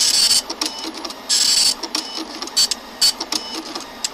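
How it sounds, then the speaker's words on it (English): A printer runs in the horror management game Freddy's Pizzeria Simulator: short, bright mechanical bursts repeat in an uneven rhythm, close and fairly loud, with no other sound. "I gotta start printing"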